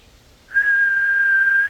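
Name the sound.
person imitating a monotone whistle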